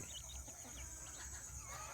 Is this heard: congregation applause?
no